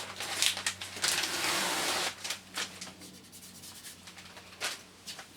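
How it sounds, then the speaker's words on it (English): Protective masking film peeled from the underside of a perspex tabletop gives a dry, rasping tear for about two seconds, then softer intermittent crackles and scuffs, close and moderately loud. "we can now remove the masking from the underside"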